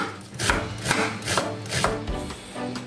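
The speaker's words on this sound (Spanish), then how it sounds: "Picamos también la cebolla." A knife chops onion on a board in steady, firm strokes, about one every half second, close and clear with no voices.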